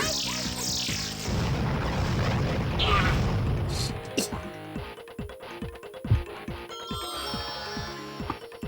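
An explosion spell cast in the video game Albert Odyssey: Legend of Eldean, a burst of crashing, roaring blast noise that rolls for a few seconds before giving way to sharp plinking effects and scattered hits.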